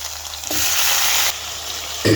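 Garlic and tomato sauté in a pan, a loud hissing sizzle swelling up for under a second of steady frying, then easing back, with a short knock of the utensil at the end.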